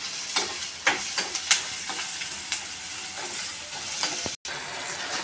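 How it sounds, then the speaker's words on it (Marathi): Chopped onion fries in oil in a kadhai, a steady close sizzle broken by light scraping taps as it is stirred and sautéed, with no talking. "कांदा टाकलाय मी, तर चांगला कांदा जरा परतून घेते."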